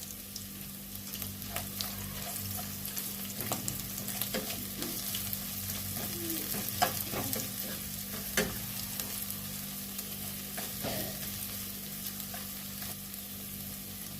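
Ginger paste frying in a pan on a low-to-medium flame, a soft, steady sizzle punctuated by scattered clicks and scrapes of stirring, close up and fairly quiet, without speech.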